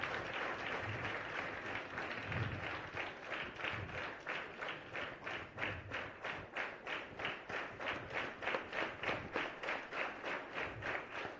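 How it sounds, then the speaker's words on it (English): Applause fills a hall at a tribal pride day event with school students, starting as a loose, soft crowd clatter and settling into steady rhythmic unison clapping, fairly distant and moderately loud. "I think this hall should be resounding with claps"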